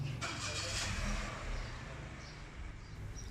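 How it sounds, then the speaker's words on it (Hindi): A Toyota car engine starts with a push button, cranking briefly and catching into a steady idle rumble, close and moderately loud, with no voices. "इसको एक दफ़ा प्रेस करूँगा गाड़ी स्टार्ट हो जाएगी।"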